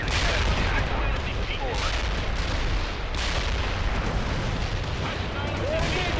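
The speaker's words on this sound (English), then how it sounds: "Artillery striking the mark" Artillery strike in the World in Conflict strategy game, a dense rolling barrage of heavy blasts and gunfire rumbling continuously and loudly, with a radio-style voice briefly speaking over it.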